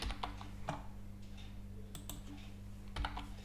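Soft keystrokes on a computer keyboard while Python code is being written, a few scattered clicks and short taps over a low steady hum, fairly quiet and close.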